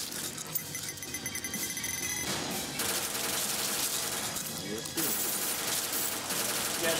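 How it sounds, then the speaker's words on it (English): Sustained gunfire in a shooter video game, with rapid bursts and alarm-like ringing from shot-out arcade screens, loud and continuous throughout. "Shooting out all the arcade screens, man."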